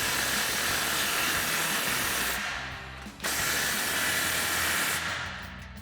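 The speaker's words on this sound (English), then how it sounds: "Now take a 14mm socket and tighten down your 2 nuts." A ratchet with a 14mm socket tightens nuts on an exhaust muffler hanger of a Ford F-250 pickup, two runs of fast, continuous clicking separated by a short pause, close and fairly quiet.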